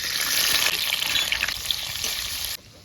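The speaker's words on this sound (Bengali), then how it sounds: "আমরা কড়াইটা গরম করে নিয়েছি, এবার গরম করে দিয়ে দেবো 100 গ্রাম ঘি।" Ghee, about 100 grams, sizzles and crackles loudly in a hot wok, a close, steady frying hiss that cuts off abruptly near the end.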